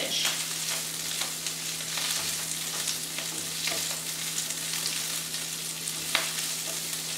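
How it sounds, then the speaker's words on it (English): Kale and spinach wilting in a hot pan give a soft, continuous sizzle with occasional light crackles and stirring taps, fairly quiet and close, with a steady low hum behind and no talking. "So I'm just cooking this off really quickly. It's only take about a minute to cook down the kale"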